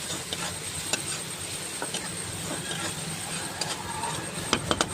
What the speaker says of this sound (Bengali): পেঁয়াজটা কিছুক্ষণ কষবো।